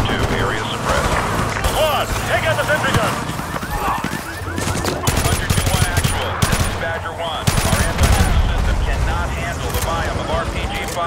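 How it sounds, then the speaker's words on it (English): Sentry gun firing in Call of Duty Modern Warfare 2 Remastered, loud rapid automatic bursts layered with other gunfire and explosions through a chaotic firefight, while radio voices talk over the shooting. "Take out that sentry gun!"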